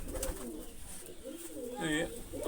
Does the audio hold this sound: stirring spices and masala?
no